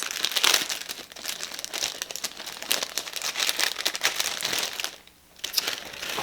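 A plastic baggie crinkles and crackles up close while a jewelry choker is unpacked from it, a busy, continuous rustle with one brief pause near the end.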